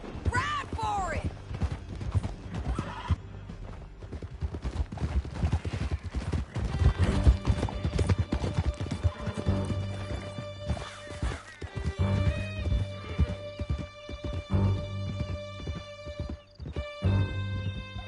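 Galloping horses in the Western video game Red Dead Redemption, a steady clip-clop of hooves with occasional whinnies under music and game sounds, with a voice shouting at the start.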